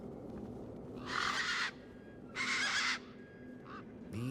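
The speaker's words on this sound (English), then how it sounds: "These were tough desert birds." Tough desert birds in Beyond a Steel Sky give two loud harsh squawking calls about a second apart, followed by a shorter call, over a low steady game ambience.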